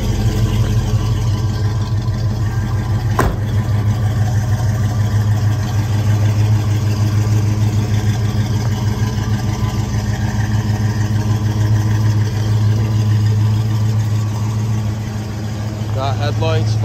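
A 1973 Pontiac Trans Am with a 455 engine idles smoothly and steadily, giving a loud, even low rumble with one sharp click partway through.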